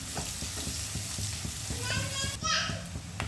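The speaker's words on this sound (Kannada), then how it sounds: "ಚೆನ್ನಾಗಿ ಫ್ರೈ ಆಗೋವರೆಗೂ ಹುರ್ಕೊಳ್ಳಿ ಎಣ್ಣೆಲಿ ಚೆನ್ನಾಗಿ." Onions frying in oil in a pan while dhokli masala is cooked, a steady sizzle with stirring clinks and scrapes, a brighter hiss rising near the end, with faint voices in the background.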